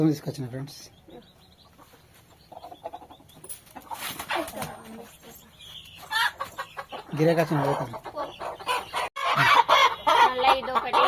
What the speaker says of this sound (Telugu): కోడి పుంజులు అయితే ఇవి రెండు